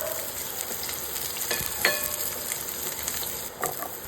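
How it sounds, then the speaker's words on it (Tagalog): Garlic sautés in annatto-coloured oil with a close, crackling sizzle, punctuated by a few sharp utensil scrapes and stirs. "nagisa na ako ng bawang."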